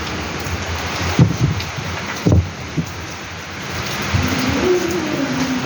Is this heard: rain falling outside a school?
yes